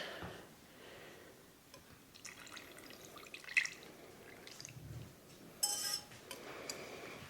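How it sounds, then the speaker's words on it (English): A cup of hot melted butter pours into warm carrot puree for a carrot soufflé in a home kitchen, giving soft drips and splatters with a few faint clinks of a bowl or utensil, no one talking. "I have the 1 cup of butter melted here, so let's get that in there first."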